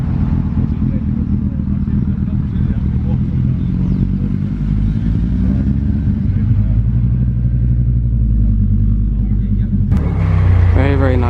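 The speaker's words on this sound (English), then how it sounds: "Bentley Continental convertible, not the smooth W12 but the raucous V8." A raucous V8 engine in a Bentley Continental convertible at a classic car show and road run, idling with a steady, loud low rumble; it swells briefly near the end, with voices faintly in the background.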